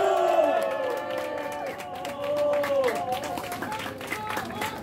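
Crowd at a political rally in Korea cheers and claps for the arriving Hwang Kyo-ahn, a dense steady roar of whoops and applause with shouting voices on top.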